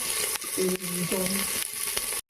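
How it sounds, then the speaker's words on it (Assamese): Onions frying in a pan give a steady, close hiss throughout, with a voice speaking over the sizzle and a few light stirring knocks. "ইয়াতে আমি পিঁয়াজ অলপমান দি দিম সেয়া পিঁয়াজ দি দিলে"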